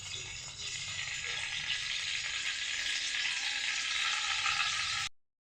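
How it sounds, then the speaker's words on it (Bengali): Panch phoron spices and dried red chillies sizzle in hot oil for a vegetarian drumstick curry, a steady, bright frying crackle that begins abruptly and cuts off near the end. "আর এটাতে আমি 5 ফোড়ন দিয়ে দিলাম, 1 চামচের মতো 5 ফোড়ন দিয়ে দিই।"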